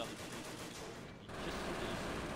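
Machine gun fire in the World War II strategy game Company of Heroes, a dense continuous rattle of rapid bursts, briefly dipping before surging back, steady and fairly loud.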